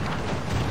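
Cannon fire during a naval battle in Assassin's Creed 4 Black Flag, a single dense booming rumble filling a brief moment, loud and sustained with no pause.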